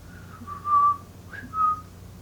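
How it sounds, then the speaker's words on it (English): A pet bird whistles two clear, sustained notes, the second sliding up briefly before settling. Both notes are moderately loud and close over a quiet room background, and no one speaks. "Sometimes he'll whistle at me."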